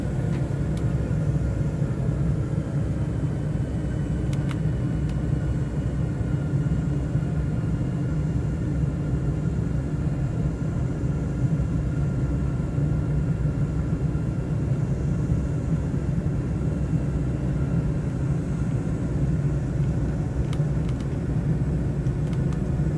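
Aircraft engines in a flight simulator game throttle up for takeoff, a loud, steady, dense rumble that holds throughout with a few faint clicks.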